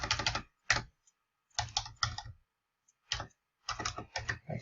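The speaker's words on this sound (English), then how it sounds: "I can type right" Bursts of rapid clicking keystrokes on a computer keyboard, close and crisp, separated by short silent pauses.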